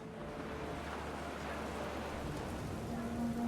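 Heavy rain pours in the game What Remains of Edith Finch, a dense, steady hiss that stays at an even loudness throughout, with a faint low rumble beneath.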